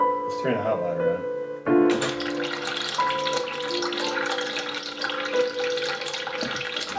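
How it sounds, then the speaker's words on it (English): Hot water tap running into a sink in a video game, a steady hissing rush of water that starts after a brief metallic squeak and continues under a speaking voice. "turn the hot water on."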